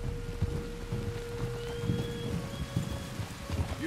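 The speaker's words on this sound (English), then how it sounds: "There's rain on the wind." Steady rain falling in the Red Dead Redemption 2 video game, a continuous wash of drops with faint hoof clip-clop beneath and a thin sustained tone running throughout.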